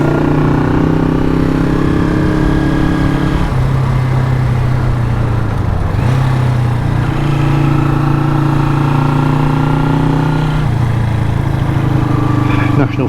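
A Honda super sport motorcycle engine drones loudly while riding, holding a steady pitch with a few shifts in revs and a brief dip near six seconds, close and continuous with wind rush.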